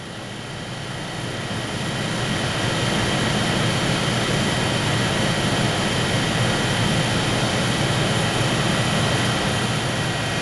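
A vacuum pump rough-pumps the chamber of a Bendix thermal evaporator, a loud, steady broadband roar that swells over the first two seconds and then holds constant, close and without speech.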